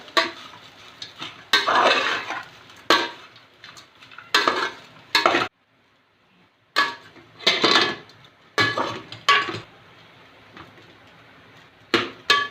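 Bread upma stir-fried in a pan, with bursts of spatula scraping and clinking against the metal pan over a soft sizzle, separated by brief quiet pauses, with no talking.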